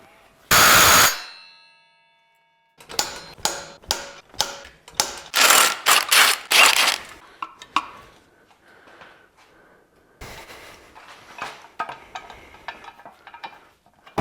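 Mechanical ratcheting and clicking as a crankshaft locking tool is fitted to a BMW E92 320i engine, with rapid bursts of clicks, a sharp loud rattle at the start and scattered quieter tool noises after a pause.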